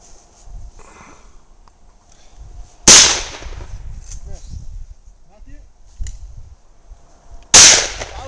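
Two loud, sharp shotgun blasts ring out at clay targets outdoors, with a softer report between them, fired from a Rossi Riot Gun and a Cooey single-shot 20 gauge, with faint voices in the gaps.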